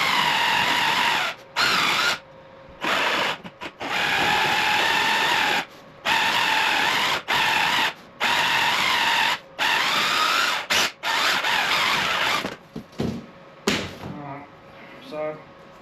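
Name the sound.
jigsaw cutting material for garage wall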